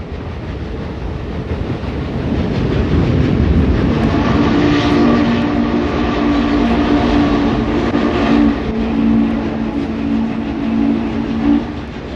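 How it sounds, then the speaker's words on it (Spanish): A train rumbles in from a distance, its broad roar swelling louder with a steady sustained tone riding over the noise, and nobody speaks. "Era el ruido del tren."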